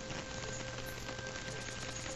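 Video game rain makes a steady, moderate hiss of drops on surfaces. The sound runs unbroken alone, with a faint background hum beneath it.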